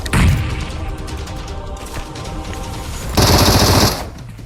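Gunfire in the mobile game PUBG Mobile: a loud opening blast, then a sustained rattle of shots, and a second harsh burst of automatic fire near the end, close and dominant with no talk.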